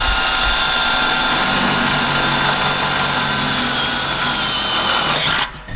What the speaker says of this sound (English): So we're gonna end up drilling 2 holes and then just bolting it up.